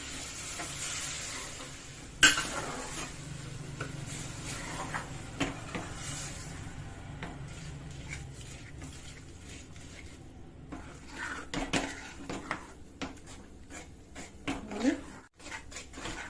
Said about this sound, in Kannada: ಹಾಲು ಹಾಕೊಂಡ್ಬಿಡ್ತೀನಿ ಗಂಟು ಆಗಬಾರ್ದು ಸ್ವಲ್ಪ ಸ್ವಲ್ಪದಾಗಿ ಹಾಕೋತ ಮಿಕ್ಸ್ ಮಾಡ್ಕೋತ ಹೋಗಿ